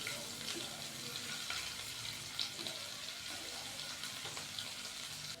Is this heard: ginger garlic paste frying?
yes